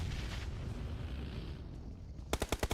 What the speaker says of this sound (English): We got the fireworks getting sent off, everything.